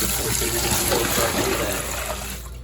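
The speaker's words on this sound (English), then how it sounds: "I had to rinse a lot of the rags one at a time." Water runs steadily from a tap into a sink while dirty rags are rinsed, a loud close splashing stream that eases off near the end, with no voices.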